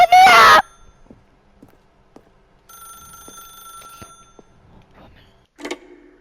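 A telephone bell rings loudly in The Stanley Parable video game, one short harsh burst at the start, followed by faint tonal hum and quiet knocks, with a brief voice-like shout near the end.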